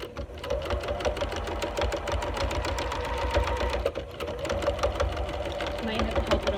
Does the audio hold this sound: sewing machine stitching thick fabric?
yes